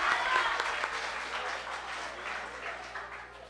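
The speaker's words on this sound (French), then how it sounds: "M'a demandé nous un petit applaudissement spécial pour Timon Nyok avec." Audience applause at a singing contest, a steady wash of many hands clapping that fades slightly over a few seconds, heard from a distance in a large room.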